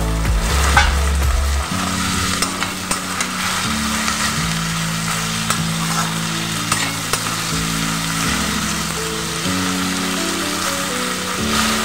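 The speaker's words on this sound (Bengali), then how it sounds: "এবার দিয়ে দেবো কেটে রাখা সবজিগুলো।" Chopped vegetables sizzle and crackle loudly in a hot pan, a dense continuous frying hiss with a few utensil taps, while steady background music plays underneath.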